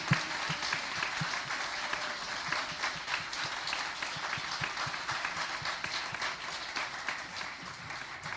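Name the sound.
audience applause for a spelling bee student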